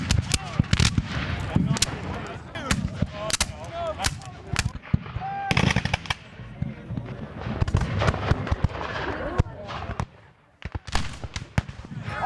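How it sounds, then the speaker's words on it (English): Cannon and musket fire boom and crack at a Civil War re-enactment, a dense, irregular volley of sharp blasts at varying distances for about twelve seconds, with voices and crowd noise mixed in between the shots. "The last cannon is fired."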